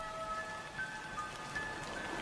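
Monsoon rain falling in a forest, a soft, even patter of drops with faint high birdlike chirps in the background, quiet and continuous.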